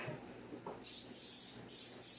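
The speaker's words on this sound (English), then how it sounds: "I'm going to spray the pan while you're stirring" Cooking spray hisses onto a baking pan in three quick bursts, a long spray followed by two shorter ones, close by after a moment of quiet kitchen noise.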